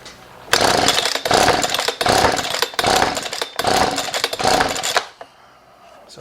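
A Husqvarna 125b leaf blower with a no-start fault is cranked on half choke. About five loud, rough pull-start bursts rise and die away in a row, and the engine never catches before it goes quiet.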